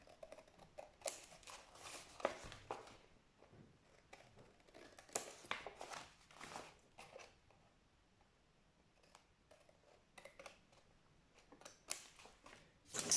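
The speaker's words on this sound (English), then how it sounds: "I normally do cut them off with the scissors." Quiet, scattered snips of scissors trimming material while making a case-bound book cover, with irregular bursts separated by short pauses.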